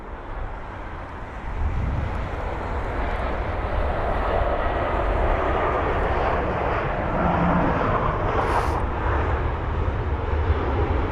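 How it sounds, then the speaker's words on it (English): A 22-year-old Finnair Airbus A320 jet lands on runway 27 right at London Heathrow, its engine roar swelling in after a quiet start and holding steady as a loud, continuous rumble and whine. "Here's that Finnair jet."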